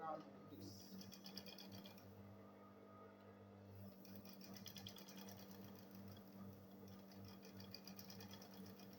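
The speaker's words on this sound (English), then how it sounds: "So I'll sew it round with this." Steady whirring drone of a sewing machine stitching around a bag made from old jeans, a continuous mechanical hum with a rapid needle rattle, fairly quiet and close.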